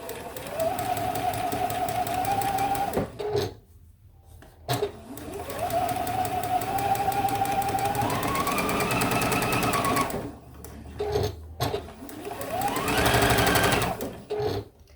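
A sewing machine stitches quilt blocks in long steady runs of fast rhythmic whirring, broken by short pauses and a few brief stitches. The machine is close and loud.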